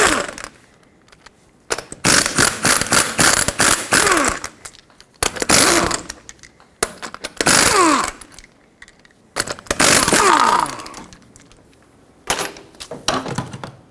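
Socket tool spinning off the five 21mm lug nuts from the front wheel of a 1995-2004 Toyota Tacoma 2WD, heard as several loud, close bursts of ratcheting and whirring separated by short pauses, with no talk.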